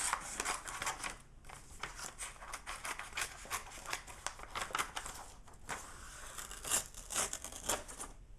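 Scissors snip through a decorative paper sheet for covering a gift box, a close, busy run of crisp cuts and crinkling paper rustle with brief pauses, no voices.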